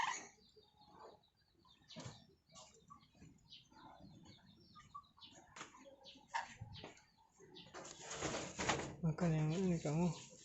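A pet parrot, likely a lory, gives a loud harsh squawking call near the end, after a stretch of scattered rustling, clicks and movement noises.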